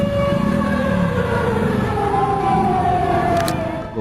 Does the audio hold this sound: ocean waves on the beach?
no